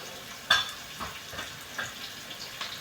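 Chopped onion and green chili sauté in a pan over a high gas flame, giving a faint, steady sizzle broken by soft scraping knocks of stirring at irregular intervals.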